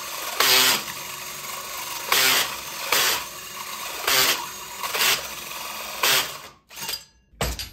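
A Bauer power drill fitted with a hole saw whirs in about six short, loud bursts with brief pauses between them, then cuts out.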